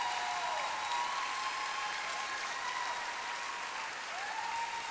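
Steady applause from a school ceremony audience honoring professors, a dense continuous wash of clapping held at an even level throughout, with a faint tone ringing above it.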